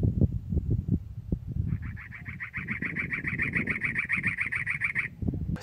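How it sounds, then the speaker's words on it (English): A bird gives a fast, rapid trilling call for about three seconds outdoors on a mountain, clear above a low rumbling wind-like background. "Got this bird making all kinds of noise."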